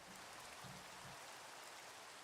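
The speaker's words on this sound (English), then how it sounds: "I'm like nervous that the rain is going to bring creepers." Rain falls in Minecraft as a steady, soft, even hiss of droplets that continues unbroken and stays fairly quiet throughout.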